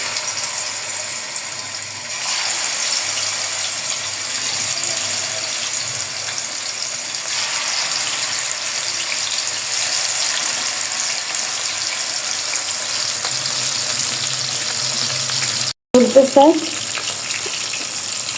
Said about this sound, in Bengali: এখন আমি বিসমিল্লাহ বলে ভাজা শুরু করব